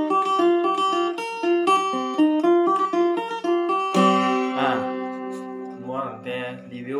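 An acoustic-electric phin lute with a built-in speaker is played unamplified, producing a quick series of plucked, twangy melodic notes that ring moderately loud, then thin out into softer, scattered plucks.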